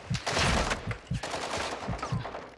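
Rapid gunfire rattles in a video game as a magazine is emptied, dense loud overlapping shots in quick bursts at close range.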